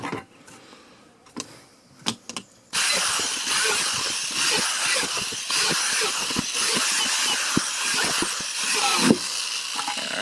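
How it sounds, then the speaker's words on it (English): Steady loud whirring of a hand drill fitted with a 5/16 bit, boring holes into a plastic bucket, running continuously after a few brief knocks and clicks at the start. "We'll go ahead and drill holes, and for that purpose I've got a 5/16 drill bit ready."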